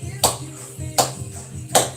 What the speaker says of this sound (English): Let's clap along, yeah.